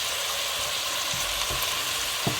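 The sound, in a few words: vegetables sautéing in a pan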